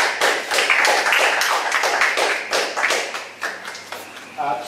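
An audience claps for a student receiving an award at a grades ceremony, a dense, steady patter of many hands sustained throughout at moderate loudness.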